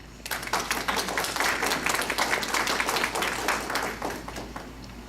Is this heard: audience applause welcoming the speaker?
yes